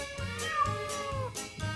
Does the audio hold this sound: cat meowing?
yes